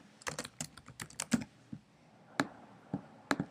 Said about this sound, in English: I'm just going to type in something